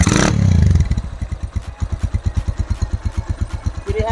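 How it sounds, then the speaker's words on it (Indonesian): A custom CB motorcycle fitted with a Honda Tiger engine idles nearby with a steady, even chugging pulse, after a louder burst at the start. "Mesinnya halus sih. Ya, standar Tiger."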